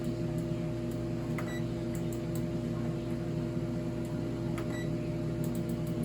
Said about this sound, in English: We'll continue when they're out of the air fryer.